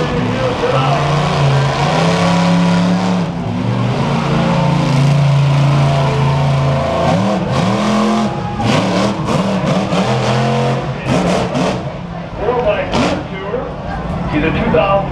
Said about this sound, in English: he's gonna bring out his old truck, La Chica Loca, and freestyle it into the crowd for you tonight